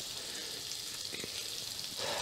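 A hot frying pan holding food for Georgian lobiani gives a soft, steady sizzling hiss, with a faint clink or two and a slight swell near the end.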